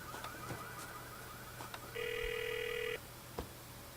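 Phone in Grand Theft Auto IV ringing, a single steady electronic tone lasting about a second over quiet game ambience with faint clicks, no talk.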